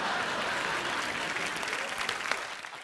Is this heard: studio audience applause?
yes